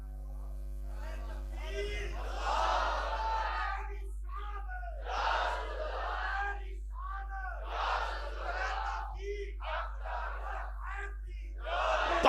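A large crowd at a religious Milad gathering in Kamalia shouts a religious slogan in unison in reply to a speaker's call, with repeated loud bursts of massed voices over a steady mains hum.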